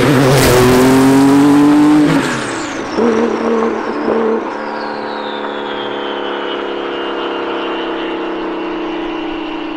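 Heavily built 940 bhp Porsche 993 911 Turbo revving hard and close for about two seconds, then lifting off as the engine note drops and fades into a lingering whine and lower rumble.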